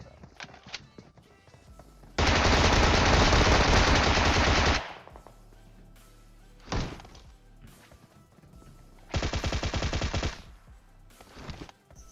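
Bizon submachine gun fire in PUBG Mobile, heard as two loud, close bursts of rapid automatic shots, the first lasting about two and a half seconds and the second shorter, with a few scattered single shots between them.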